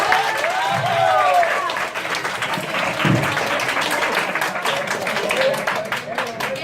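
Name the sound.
classroom applause for a student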